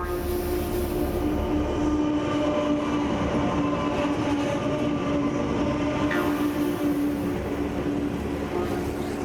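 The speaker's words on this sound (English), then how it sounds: "Bernie and Warren now push their 4 working locos to the limit, desperately trying to get back on schedule." Four working diesel locomotives hauling a long train in Australia drone loudly and steadily with a low hum, rumbling continuously as the train rolls along, faint rail clatter underneath.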